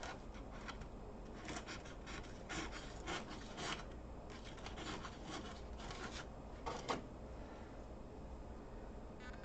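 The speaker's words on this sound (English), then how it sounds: "I would probably use a smaller knife if I want to get at some of these here" A small knife carves a wooden model pirate ship, making close, steady scraping and rasping strokes in irregular bursts, with one sharper scrape near the end.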